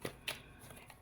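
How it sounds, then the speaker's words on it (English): A quick shuffle of a tarot card deck: two short, crisp riffling bursts close to the microphone, followed by a faint rustle in an otherwise quiet room. "All right, quick shuffle."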